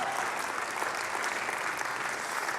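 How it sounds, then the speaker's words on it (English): Church congregation gives a round of applause for youth helpers, a steady, even wash of many hands clapping from a distance with no voices standing out. "Can we give a big round of applause for all who help with our youth?"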